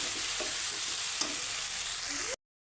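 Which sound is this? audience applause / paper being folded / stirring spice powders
stirring spice powders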